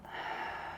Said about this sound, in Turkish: Derin bir nefes al.